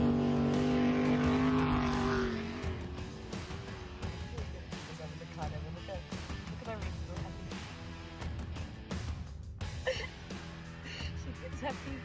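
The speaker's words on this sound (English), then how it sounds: "We could hear a buggy coming." An off-road racing buggy at the Finke desert race, engine rumbling and revving as it approaches, with people talking over the drone.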